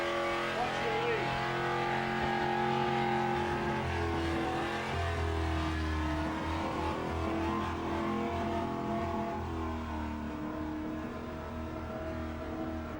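A burnout car at Summernats revs hard in a continuous, loud engine roar with tyre noise, the pitch holding steady and then easing slightly toward the end, with a commentator's voice faint in places.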